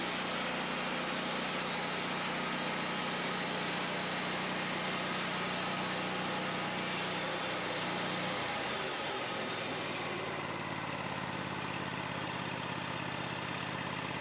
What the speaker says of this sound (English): I milled out the bottom of it. I've got a nice 6-inch D-log on top.